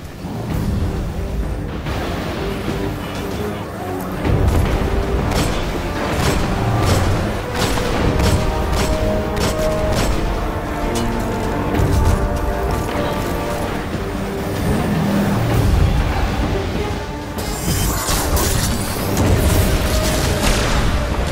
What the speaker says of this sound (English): They brought a tank to a gunfight!